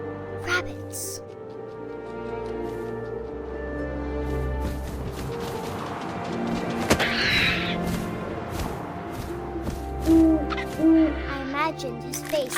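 Owl hoots in the video game What Remains of Edith Finch ring out amid wind and ambient tones, while a voice narrates over much of the scene.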